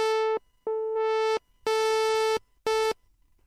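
A synthesizer oscillator tone passes through a filter as its cutoff is adjusted, sounding as four separate buzzy, harmonic-rich bursts with short silent gaps between them, steady in pitch and fairly loud.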